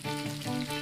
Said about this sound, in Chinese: 五花肉在锅内慢慢熬制炼油